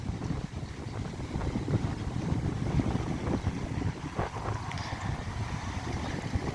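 Strong wind gusts outdoors on a city street in Barnaul, producing a loud, continuous rumble and buffeting against the microphone.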